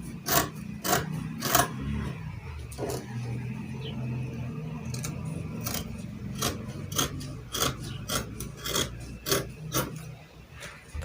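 Scissors cut fabric along the front neckline of a gathered short gown with a keyhole neckline, giving repeated crisp snips in an irregular rhythm close by, over low room noise and no talk.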